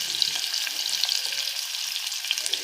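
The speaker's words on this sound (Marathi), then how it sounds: "आता आपण त्याच्यामध्ये आलं, लसूण, कांदा, टोमॅटो आणि तमालपत्र सगळं टाकून घेऊया." Ginger, garlic, onion, tomato and bay leaf frying in hot oil: a steady bright hiss and crackle with faint stirring, close and constant, without speech.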